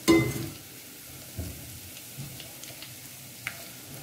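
Garlic frying golden in a pan for daal mash gives a soft, even sizzle, opening with a louder burst and followed by a few faint scrapes and ticks of stirring.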